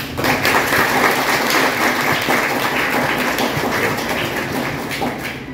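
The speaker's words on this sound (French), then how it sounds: "Sur vos applaudissements, s'il vous plaît." An audience at a gathering for a district commissioner in Grand'Anse applauds, a dense, continuous crackle of many hands held at an even level for several seconds before easing slightly at the end.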